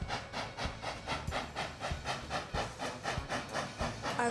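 A toy train runs along its track over a measured 640 cm course, giving a steady, regular clacking at even intervals under a continuous faint rumbling hiss, with no talk.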